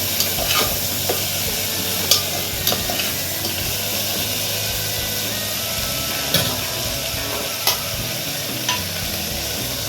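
Green peas frying and being stirred in butter in a pan for a mixed vegetable soup, a steady sizzle under several sharp scraping clicks of a spoon against the pan.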